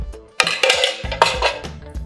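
Cabbage being mixed with starter culture in a bowl, a few close, quick clinks and scrapes of utensil against the dish in an uneven rhythm.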